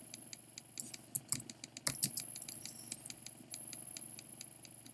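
Quiet, uneven clicking of keys on a computer keyboard while typing PHP code, in short bursts and scattered taps, close by with no speech.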